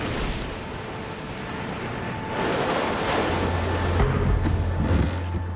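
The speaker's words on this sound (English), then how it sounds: "Big waves are slamming against the side of the boat." Big ocean waves slamming against the side of a sailing boat at sea, a continuous roar of surf and wind with heavier low thuds building toward the end.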